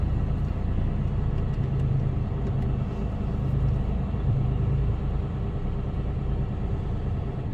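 A Mercedes Actros HGV in the UK rumbles steadily from inside the cab, a loud continuous low engine drone at a constant pace without change throughout.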